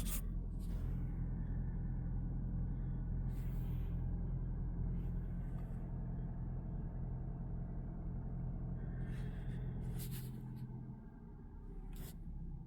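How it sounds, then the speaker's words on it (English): A 2023 Audi A5 Prestige engine idling, a low steady rumble heard close by that drops slightly in level near the end as the idle settles, with a few faint rubbing and handling noises and no talk. "Okay, so the idle's gone down."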